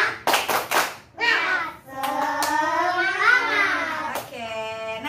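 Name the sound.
class doing rhythmic spirit clap (tepuk semangat)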